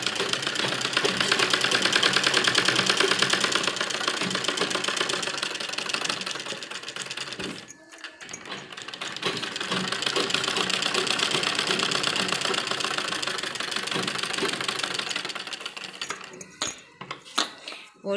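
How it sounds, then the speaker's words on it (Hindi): A sewing machine runs steadily, stitching buckram along the edge of a net lehenga blouse. The motor's whir is loud and continuous, breaks off briefly near the middle, then resumes and ends in a few short stop-start bursts. "किनारे किनारे पर हमें बुकरम की सिलाई लगानी है, बिल्कुल किनारे किनारे पर सिलाई लेकर चलनी है।"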